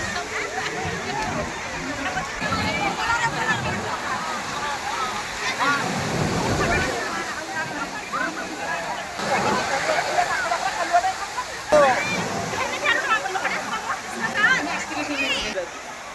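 Big sea waves on Puri beach in heavy rain, a continuous loud roar of surf and sloshing water with surges of crashing, while someone talks excitedly over it throughout.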